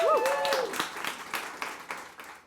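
Scattered clapping from a conference audience greeting a panel of advertising executives, a short burst that thins out and fades, with a voice speaking briefly at the start.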